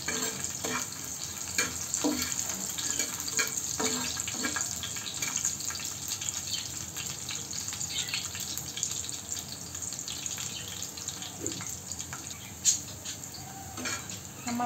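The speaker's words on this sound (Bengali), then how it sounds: "রসুনটা কিছুক্ষণ ভাজতে থাকবো।" Small local garlic frying with chillies in a pan, a steady close sizzle that runs the whole time, with a few light clinks of a utensil on top.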